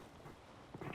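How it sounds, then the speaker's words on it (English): Samuel, an impatient cat, gives a short, rising meow near the very end after a stretch of faint room noise, close by and moderately loud, with no talking. "a meowing impatient cat"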